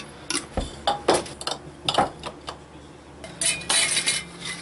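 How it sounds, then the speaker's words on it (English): Dehydrated onion going into a pan of potatoes and pepper on a new gas grill in a tent: metallic clinks and scrapes of a utensil against the pan, irregular and close, with a busier clatter toward the end. "I'm just going to put a little bit of dehydrated onion in here"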